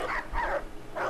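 Dog barking during a protection-work obedience demonstration at an all-breed obedience event, with about three loud, close barks in quick succession over a steady background.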